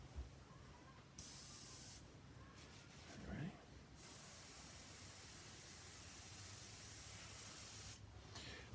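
An airbrush sprays paint in a workshop, giving a bright, steady hissing rush that starts and stops in a few bursts and then holds for about four seconds, fairly faint overall.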